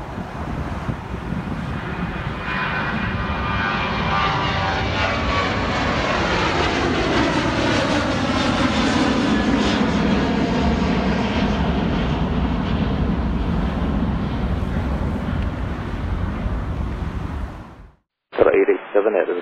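An airliner powers down runway 27 right at Atlanta airport on its takeoff roll, a loud sustained jet engine roar that swells and slowly shifts pitch before cutting off abruptly near the end, with faint radio chatter beneath.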